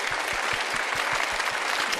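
An audience at a Swami Ramdev gathering claps in applause for the Swami and his team, a dense, continuous wash of many hands at a steady level.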